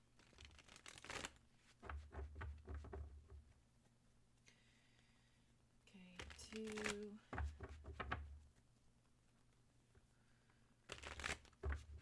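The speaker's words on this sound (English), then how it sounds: "They want me to shuffle like this." Quiet bursts of tarot cards being shuffled and riffled, close and soft, in several short spells with pauses, and a voice speaking briefly.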